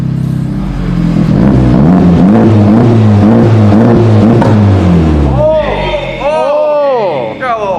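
A 2020 Honda Civic Type R with aftermarket exhaust revs hard to redline and holds a deep, loud exhaust drone for several seconds, then drops away as people chatter and exclaim.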